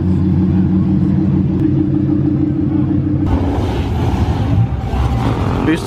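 A turbocharged Toyota Supra's engine rumbles loud and close, a deep steady drone that shifts partway through into a brighter, rougher roar as it passes or revs.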